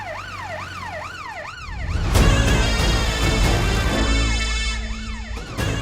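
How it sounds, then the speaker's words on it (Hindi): A wailing police siren rises and falls repeatedly, loud and close, then a burst of rumbling noise and traffic drowns it before the wail returns faintly. "ये तो पुलिस के सायरन की आवाज है ना।"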